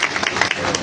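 An audience at a political speech breaking into scattered clapping, a brief patter of hand claps with some murmuring underneath.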